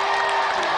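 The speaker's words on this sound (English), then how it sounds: "let's give another round of applause for Clive Barton and Richard Walkland" Studio audience on a games show applauding and cheering in a loud, dense, continuous burst that fills the whole moment without a break.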